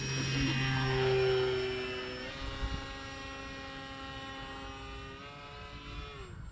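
A steady, droning propeller engine whine from an RC Cessna 182 model airplane with a balanced prop, strong harmonic tones, shifting slightly in pitch, with a low hum underneath and no talking.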